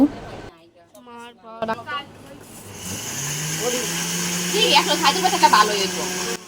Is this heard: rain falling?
no